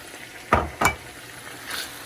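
Sauerkraut being stirred into a mixture for stuffed cabbage rolls, two quick close scraping swishes followed by a softer third, with no talking.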